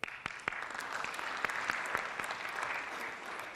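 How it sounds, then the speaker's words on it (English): Audience applause in a workshop hall in Egypt, a dense steady crowd clapping with a few sharper individual claps standing out, moderately loud and continuous throughout with no talk over it. "So big claps to all of you"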